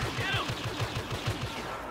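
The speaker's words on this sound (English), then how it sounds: "So much blaster fire going on right here." Rapid bursts of blaster fire in the Star Wars Battlefront Walker Assault game, a dense rhythmic volley of shots repeating about every tenth of a second, loud and continuous.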